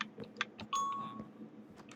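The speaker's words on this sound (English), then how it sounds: "I've got the note block set up to where when you press the buttons, it's a doorbell system." A Minecraft note block wired as a button doorbell rings one clear, bright chime tone that sustains and fades over about half a second, with soft clicks and background game noise around it.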